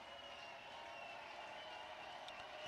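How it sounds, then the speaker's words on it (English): A baseball crowd at TD Ameritrade Park keeps up a steady, distant roar and murmur through a Big Ten Tournament game, with no single clear cheer standing out. "The crowd still making noise here at TD Ameritrade"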